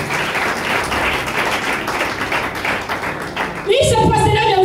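A church congregation claps and cheers to acclaim Jesus during a service, a dense, steady wash of applause that carries on for several seconds before music swells in near the end.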